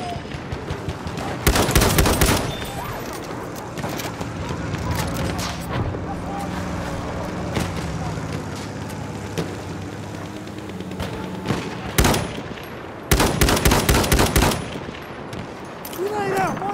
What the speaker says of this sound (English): Enemy machine gun, take it!